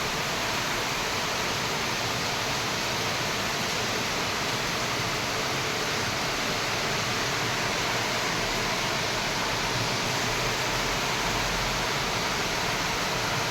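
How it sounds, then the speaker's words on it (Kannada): Heavy monsoon rain pours steadily in Mangalore, heard from a balcony overlooking a flooded road, a dense, loud, unbroken hiss with no voices. "ನೋಡಿ ನಮ್ಮ ಬಾಲ್ಕನಿಯಿಂದ ಹೇಗೆ ಮಳೆ ಬೀಳ್ತಾ ಇದೆ ಅಂತ"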